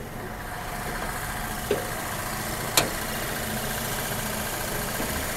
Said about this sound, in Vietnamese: Máy nổ rất là đầm, mới rất là cứng cáp nha.